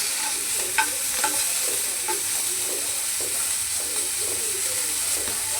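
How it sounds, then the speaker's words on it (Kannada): Spices frying and being stirred in a pan on a stove at very low flame, making a steady broad sizzle with scattered light scraping clicks of a spoon, close by and alone with no talk. "ಹಸಿ ವಾಸನೆ ಹೋಗೋವರೆಗೆ ಇದನ್ನು ನಾವು ಫ್ರೈ ಮಾಡಿಕೊಂಡ್ರೆ ಸಾಕಾಗುತ್ತೆ"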